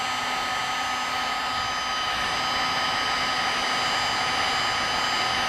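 Steady, loud whirring blast of a heat gun or hair dryer warming a Talon grip on a Glock 42 pistol, an even unbroken drone throughout with no talking.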